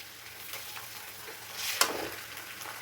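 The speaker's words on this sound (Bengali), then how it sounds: "আদাটা একটু ভাজা ভাজা করে নিই।" Ginger and garlic sizzle in hot oil with softened onion for a rohu fish and green banana curry, a steady crackling hiss with a brief stirring scrape and a sharp burst of spatter near the middle.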